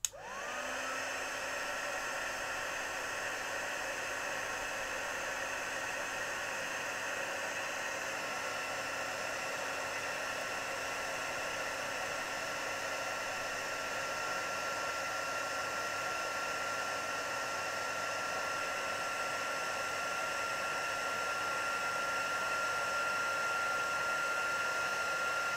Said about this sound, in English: I just get my heat tool and switching it on now.